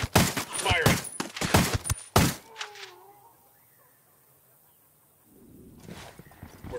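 A squad opens fire in Ghost Recon Wildlands, a loud dense burst of rapid gunshots for about two seconds, followed by a quiet stretch with faint echoing tails and a low rumble returning at the end.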